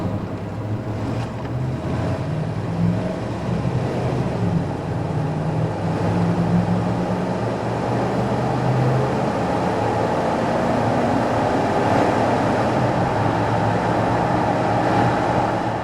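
A 1994 Chevrolet K1500 Z71 pickup with a 5.7 V8 and automatic transmission driving on the open road, a steady loud rush of wind and road noise with a low engine drone throughout.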